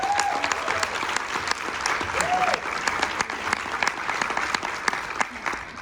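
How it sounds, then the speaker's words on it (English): Warm audience applause at a Family Promise nonprofit gathering, steady clapping from a medium-sized crowd, with a brief whistle-like tone near the start. "Can we all just clap for her?"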